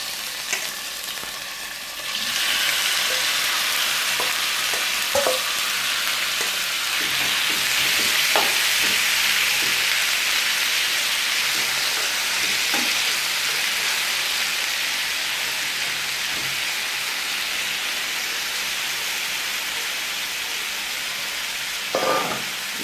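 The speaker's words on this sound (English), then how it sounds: "So now I'm gonna add the beef to the hot oil." Beef top sirloin hits hot vegetable oil in an outdoor yard kitchen in Jamaica, breaking into a loud, continuous close-up sizzle with occasional stirring clicks and no voices.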